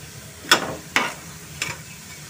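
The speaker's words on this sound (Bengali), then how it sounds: "পাকোড়াগুলোকে আমি অপর সাইডও আবার একইভাবে ভেজে নিচ্ছি।" Potato pakoras frying in hot oil, with three sharp spattering sizzle bursts as they are turned and stirred, each fading quickly over a low background, close and without any voices.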